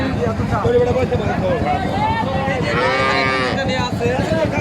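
A dairy cow at the Dhap cattle market in Bogura lets out drawn-out moos amid a busy livestock crowd, with people talking and other animal calls mixed in close by.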